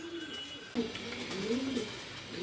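Domestic pigeons coo nearby in short, soft throaty phrases, a couple of low rolling calls over faint background.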